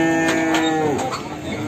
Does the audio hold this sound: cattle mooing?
yes